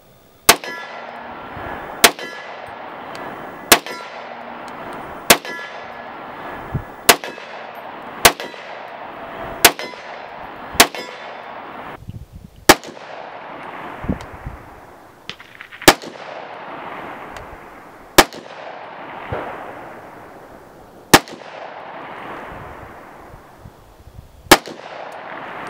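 Rifle with a 6.5-inch 300 Blackout barrel fires about fifteen sharp, loud shots at an outdoor range, each followed by a ringing echo that decays, with the shots evenly paced at first and then spaced more widely.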